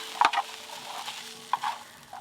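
Egg chowmein is stir-fried with vinegar and soy sauce in a home kitchen. A soft sizzle sits under a few sharp scraping and clanking strokes of the utensil, with no talk.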